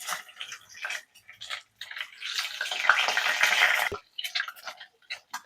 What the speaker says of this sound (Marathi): तर तुम्ही पाहू शकता इथं अंडे चांगले फ्राय होत आहे आपले